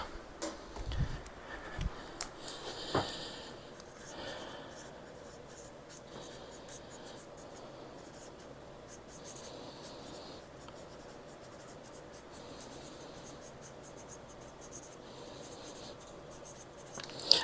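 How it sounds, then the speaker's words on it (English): A pen scratches across a plastic freezer bag in a quiet kitchen, steady faint scribbling strokes with a few sharper taps early on. "now I'm going to write on it what it is"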